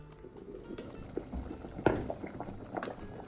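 Pot of water for cooking khanom jin rice noodles bubbling on a medium flame, soft irregular gurgles and pops with occasional louder splashes, fairly quiet and close.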